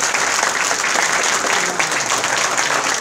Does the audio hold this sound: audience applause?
yes